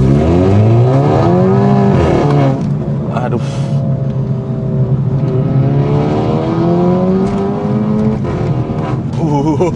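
A modified VW Golf Mk6 TSI tuned to Stage 2 pulls hard on the road, its engine note climbing, briefly dropping at a gear change, then rising again, loud and close from inside the car.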